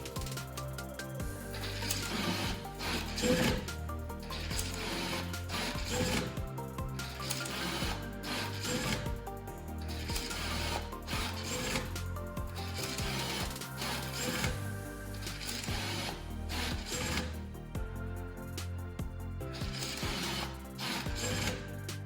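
An NV4000 banknote acceptor feeds notes rapidly into its cassette, making a busy run of whirring motor bursts and quick mechanical clicks and rattles that repeat steadily for about twenty seconds, fairly quiet and close.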